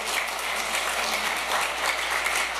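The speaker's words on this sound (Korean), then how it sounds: "여러분을 위해서 한번 박수 안 치실래요?" A seated lecture audience at a filial piety education event claps together in a dense, even burst of applause, steady and fairly loud from start to finish, with no voices over it.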